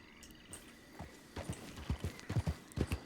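A Criollo horse's hooves clip-clopping in Red Dead Redemption 2 roleplay, steady close hoofbeats that start sparse and settle into a quickening walking rhythm, fairly faint over a soft ambient bed.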